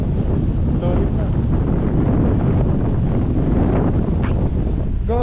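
Strong winter storm wind blasts across a microphone near a condo in Canada, a constant loud roaring rush with faint voices barely audible beneath it.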